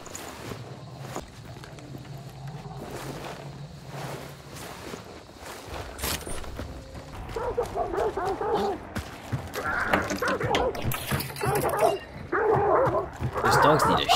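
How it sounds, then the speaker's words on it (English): Dogs barking, yipping and whimpering in an action video game, repeated sharp barks up close amid game effects, with a player talking over the later part. "These dogs need to shut up."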